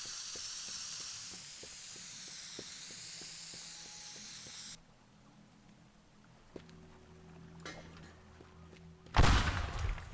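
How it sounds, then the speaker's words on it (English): Spray paint hisses from a can in the Teardown video game, a steady airy spray for several seconds against faint rhythmic ticking, then cuts off before quieter game sounds and a final burst. "I'm going to actually use spray paint here."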